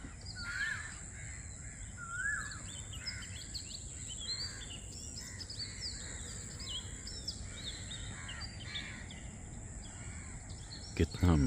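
Crows caw repeatedly alongside other birds calling on an early morning, a steady outdoor chorus of chirps and caws at moderate distance with constant background hiss.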